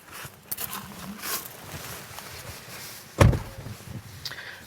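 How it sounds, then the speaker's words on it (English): A 2024 Tesla Model 3 door is opened using the electronic door release button, with soft clicks and rustling, then one sharp thud of the door unlatching, close and fairly loud. "to operate the door, you press on the larger part of the door release."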